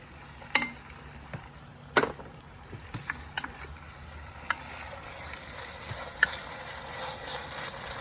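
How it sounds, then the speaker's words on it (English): Jalapeños and Hatch chili peppers sizzle with onions in a pan on a Big Green Egg, a steady frying hiss building under sharp clinks and scrapes of stirring. "So I'm gonna add this in here with the onions now."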